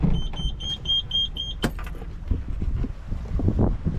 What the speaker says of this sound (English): So this is just the furling line. So we're unfurling the head sail.